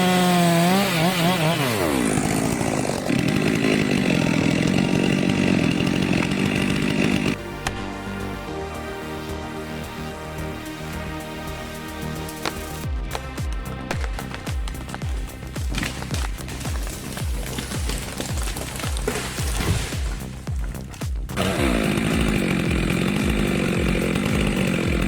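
Stihl MS462 chainsaw cutting through tree timber, loud and close, the engine revving high and bogging into the wood, steady ripping through long cuts with pitch shifts as the throttle rises and falls.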